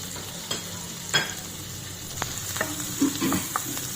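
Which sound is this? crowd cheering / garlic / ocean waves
garlic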